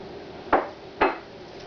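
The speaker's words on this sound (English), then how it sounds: "Let me cut up one of these stuffed mushrooms and show you just how good they look." A knife slices through a stuffed mushroom in two short, crisp cuts, each a soft crunch with a faint tap against the board beneath, in an otherwise quiet kitchen.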